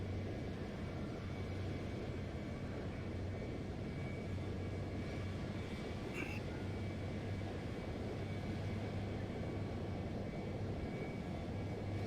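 Boeing 737-800 jet engines in a flight simulator give a steady, even roar throughout, fairly quiet and uniform, with no talk over it.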